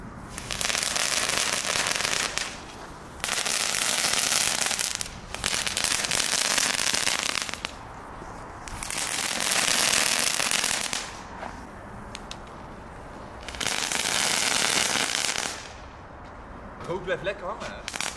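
Homemade Belgian fireworks going off outdoors: long bursts of dense, loud crackling several seconds each, separated by short pauses, with voices heard between and over the bursts.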